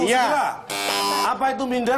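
A quiz show buzzer on the Indonesian TV game 'Kuis Minder' gives one harsh, loud buzz lasting about half a second. It falls between bursts of lively speech from people in the studio.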